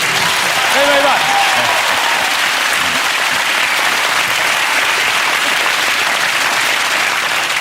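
A TV panel-show studio audience claps and cheers in a loud, sustained wash of applause, with a voice speaking briefly at the start before the clapping carries on alone.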